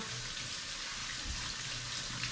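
Barber brushes and combs rinsed under a running tap, a steady, fairly quiet rush of water throughout with no talk.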